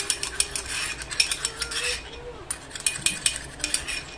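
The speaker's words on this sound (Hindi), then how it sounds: "इसे अच्छे से स्टर कर लेंगे" A spoon stirs amla juice into shampoo in a small container, giving quick, rhythmic metallic clinks and taps against the sides, close and clear with no talking.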